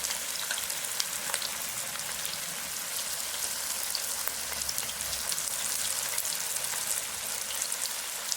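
Cauliflower pakoda pieces frying in hot oil, a steady, dense sizzle with crackling bubbles that holds evenly throughout, close up and with no voices.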